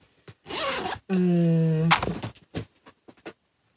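A zipper on a homemade rectangular fabric pouch is drawn in short bursts, with one long pull in the middle and a few quick rasps after it, close and clear, with no talk.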